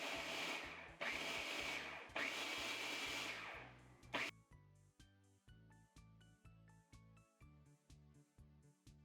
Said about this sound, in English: Now use your food processor to just pulse all of the ingredients together